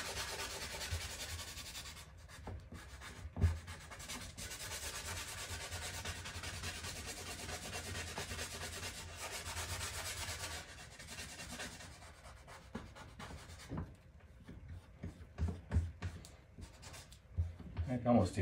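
Oil pastel blended across a sanded painting surface, a dry scratchy rubbing that runs steadily, then breaks into shorter uneven strokes toward the end.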